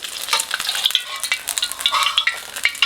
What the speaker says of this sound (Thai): ก็จะทอดแบบกรอบนอกแดงในเยิ้มในเลยนะครับ